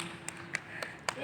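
A few people at a farewell gathering clap sparsely, four separate sharp claps spaced roughly evenly, over a faint background hum and murmur.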